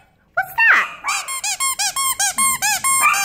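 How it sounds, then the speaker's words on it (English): A squeaky dog toy squeezed repeatedly at a dog shelter in Modesto, California, giving a bright rhythmic run of about a dozen close, loud squeaks after an opening longer squeal. "Did you hear my squeaky toy?"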